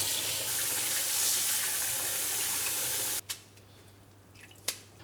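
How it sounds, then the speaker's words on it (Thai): Steady running water from a tap rinses cooked noodles for about three seconds, then cuts off, leaving a few faint drips and small clinks. "หลังจากนั้นเราก็จะหยุดความร้อนโดยการให้น้ำไหลผ่านครับ"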